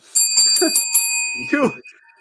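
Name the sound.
bell sound effect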